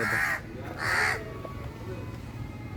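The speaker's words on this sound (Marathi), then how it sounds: "अरे कावळ्या" A crow caws twice in quick succession, fairly close, at an excavation site in Ter village, Dharashiv, where rainwater has pooled; then only quiet background noise remains.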